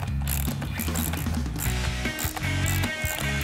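A socket wrench ratchets steadily while loosening the top cap of a mountain bike's front suspension fork. The clicking is loud, close and continuous, with a busy mechanical texture throughout.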